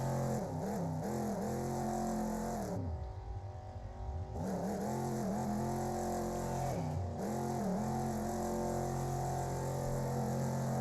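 Race cars in the Wreckfest racing game, one of them a shiny gold car, with engines roaring steadily and revving up and down through gear changes over about eleven seconds, loud and continuous with no talk.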